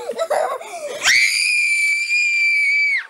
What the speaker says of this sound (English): I want you to scream when I say to